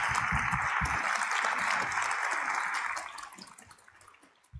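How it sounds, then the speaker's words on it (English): A large rally audience claps in a dense, steady burst that holds for a few seconds and then thins out and fades. "let us give Dr. Hak Cha-han-moon, the Mother of Peace and Unity, a warm round of applause"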